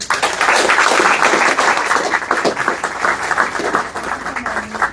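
Crowd applause for the Carifesta XV delegation at a government event, a full round of clapping that rises quickly, then thins and fades toward the end, with a few voices under it.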